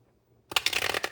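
Tarot cards are shuffled in a quick riffle after a short quiet pause, a close, crisp burst of papery flutter lasting under a second.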